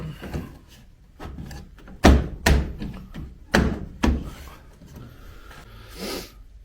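Jeep Gladiator JT tail lights are pressed back into their housings, producing several close, solid plastic thunks and knocks at irregular intervals with softer handling rustles in between.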